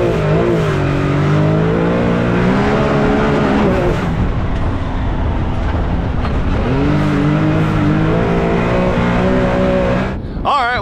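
A Can-Am Maverick X3 UTV nicknamed Frankenstein drives a lap, its engine loud and close, droning steadily and rising and falling in pitch through gear changes for the whole stretch.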